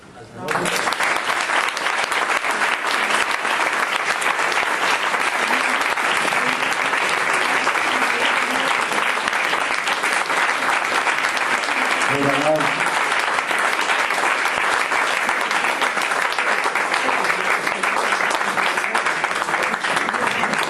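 Sustained audience applause fills the room after a lecture on transmitting tradition without indoctrination, a dense, steady roar of many hands lasting about twenty seconds, loud and unbroken, with a brief murmur of voices partway through.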